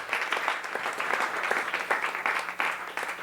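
A church congregation at a Spanish-language evangelical service applauds, with dense, steady clapping from many people filling the room throughout, loud and close, with no speech over it.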